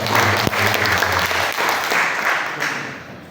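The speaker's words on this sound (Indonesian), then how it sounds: "Kita berikan tepuk tangan." Loud, dense applause from a church congregation, full and close at first, then thinning and fading toward the end.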